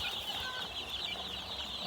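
Dense chorus of peeping from a flock of about 200 one-day-old ducklings on a farm, continuous high chirps filling the whole stretch at close range with no talk.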